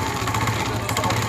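A motorcycle engine idles close by with a steady, even mechanical rumble that continues throughout the brief moment.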